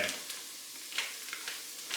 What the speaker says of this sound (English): Now I'm gonna add in a stick of softened, unsalted butter